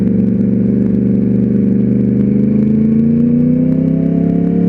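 Yamaha R1 sport motorcycle engine on a test ride, a loud, steady close-up drone whose pitch climbs gradually as the throttle opens, with a continuous whirring mechanical hum and no voices.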